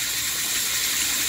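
A bathroom tap runs steadily while a face is rinsed, a loud, even hiss of flowing water close by with no voices.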